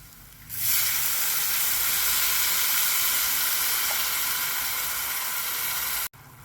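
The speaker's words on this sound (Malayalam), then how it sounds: "ഇതിലേക്ക് പുളി പിഴിഞ്ഞ വെള്ളം ഒഴിക്കാം." Tamarind water poured into a hot pan of frying dates pickle sets off a sudden loud, steady sizzle and hiss that holds for several seconds, then cuts off sharply, with no talking.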